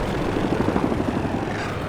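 A helicopter in the shooter game Battlefield 2042 drones with a dense, steady rotor chop and engine roar, loud and close for a moment of combat, with no talking.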